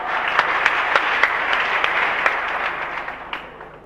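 Audience applause at a comedy stage show, steady dense clapping with a few sharper claps standing out, continuous for several seconds before tapering off near the end.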